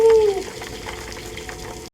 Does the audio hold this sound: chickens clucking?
no